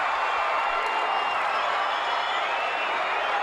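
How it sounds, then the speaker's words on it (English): A fired-up wrestling crowd at a 1985 tag match roars and cheers in a steady, unbroken wash of noise that fills the arena. "This crowd is fired up."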